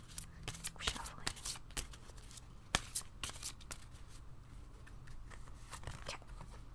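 Tarot cards from the major arcana being shuffled by hand, a run of soft papery riffles and flicks with quick bursts and a few sharper snaps, close and fairly quiet over a low steady hum.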